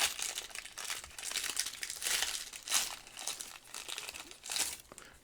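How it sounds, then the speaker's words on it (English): A foil wrapper on a pack of Pro Set Guinness World Record trading cards crinkles and tears open, a busy close run of crackling and rustling bursts with no voices. "let's open this pack of totally legit Guinness World Record"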